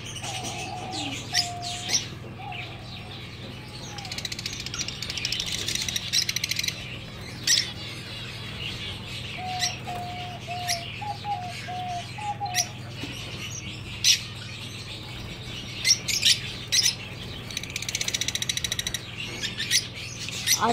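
White, diamond and silver doves in an aviary setup make repeated soft tonal calls and chirps, with scattered sharper tweets over a low background hum.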